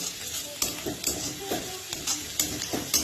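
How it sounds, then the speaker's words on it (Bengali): Onions frying in a pan with a little turmeric added for a Bengali lunch, a steady close sizzle broken by about seven regular scraping stirs of the spatula, with no voices. "পেঁয়াজটা ভাজা ভাজা হয়ে গেছে"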